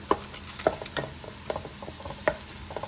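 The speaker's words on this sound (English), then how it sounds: "stirring it, mixing everything together, and it's deep frying at the same time" Oil sizzles quietly and steadily as plantains deep fry while a utensil clicks and scrapes against the pan at irregular intervals.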